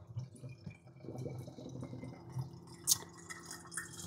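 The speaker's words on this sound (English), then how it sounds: "So I'm gonna pour that out." Dirty water from washing vegetables is poured out, a faint, soft, uneven trickle and splash running for several seconds, with one brief sharper clink near the end.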